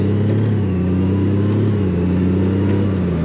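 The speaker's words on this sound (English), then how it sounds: "You'll hear it when I take off. It just goes through the gears." A 2021 Honda Gold Wing DCT motorcycle pulls away, its engine droning loud and close with steady rising and falling pitch as the automatic transmission shifts up through the gears.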